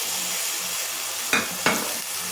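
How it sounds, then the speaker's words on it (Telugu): Potato pieces going into a curry pan, a steady hiss of frying with two sharp sizzling bursts close together near the end as more pieces hit the hot oil. "సో నేను దీనిలో బంగాళదుంప ముక్కలు వేసేస్తున్నానండి."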